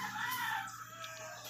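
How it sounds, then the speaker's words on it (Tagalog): Neighbourhood chickens crow in a short, faint burst nearby, a rooster call rising then trailing off against a low steady hum. "medyo maingay dito kasi gising pa yung mga manok kapit bahay"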